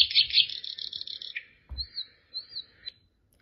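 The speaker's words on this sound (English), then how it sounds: "Nightingale." Bright chirping bird song attributed to a nightingale: a rapid run of high trilled notes, then a pause and several separate whistled phrases, heard clearly and close with no talking.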